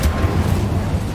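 An Incendio fire spell is cast in the video game Hogwarts Legacy, giving one short, rumbling burst of flame with a soft whoosh.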